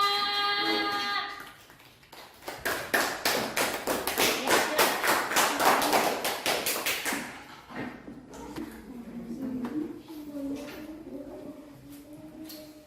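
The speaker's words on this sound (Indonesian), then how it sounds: "Tepuk tangan untuk kelompok A" A classroom of students claps for a presenting group, a few seconds of brisk, scattered applause after a short tone, then fading into faint shuffling and a quiet voice talking.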